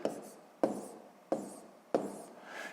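Pen strokes writing numbers by hand on paper for a sixth-grade long division problem, four short scratchy bursts at a steady pace, close and fairly quiet, with no talking.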